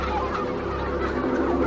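Turkeys on a farm gobble and cluck in a steady, dense flock chatter that runs throughout without pause.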